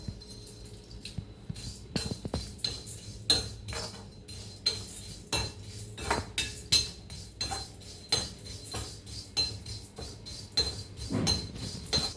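Matta aval, a red flattened rice, being roasted in a pan with a metal spoon, steady irregular scraping and clinking strokes of the utensil against the pan, close up and moderately quiet, with no voices.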